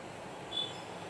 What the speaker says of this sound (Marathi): बाहेर गाड्यांनी एवढा आवाज येतो की बोलताच येत नाही